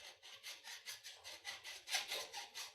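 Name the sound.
filing burrs off a metal waveguide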